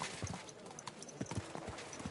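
Horse hooves clip-clop at a walking pace in the video game Kingdom Come: Deliverance 2, a close, uneven rhythm of soft thuds with faint game ambience.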